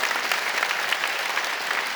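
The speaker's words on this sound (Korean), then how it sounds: "여러분 크게 박수로 한번 환영하실까요?" Church congregation clapping to welcome a visiting guest during a Sunday worship service, a soft, even patter of many hands heard from a distance.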